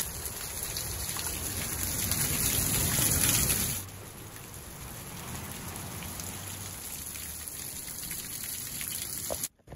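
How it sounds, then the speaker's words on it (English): A natural waterfall washes down from the top of a cliff, making a steady broadband rush that is louder for the first few seconds, then settles into a softer, even wash with no voices. "Beautiful looking natural waterfall washing down from the very top of the cliff"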